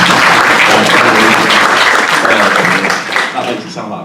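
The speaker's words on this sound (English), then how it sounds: "Can we have a round of applause for Olly Tandon?" An audience applauds at a creative industry event, a dense, loud round of clapping that carries on steadily for a few seconds and then thins out toward the end.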